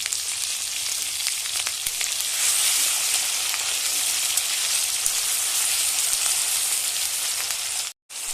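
A spice paste of onion, garlic and ginger fries in a pan for a crab curry, giving a steady, dense, close sizzle that barely changes and stops briefly for a moment near the end.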